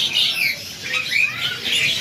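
A pair of tame caged Thai foxe birds chirp with continuous, busy high twittering and sweeping whistled notes. The calls stay close and fairly loud, with no talk over them.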